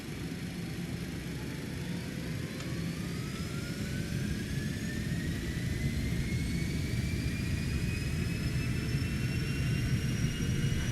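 Cessna Citation X jet engines spooling up to takeoff thrust in X-Plane 12, a steady loud roar with a rising whine that climbs gradually throughout, no voices.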